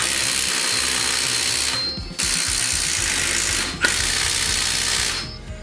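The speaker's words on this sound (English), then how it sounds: "I've got a 5/8 size on my little impact here." A small impact wrench fitted with a 5/8 socket works the U-bolt nuts on a Club Car DS golf cart's leaf springs, giving three long rattling bursts separated by brief pauses, close and loud.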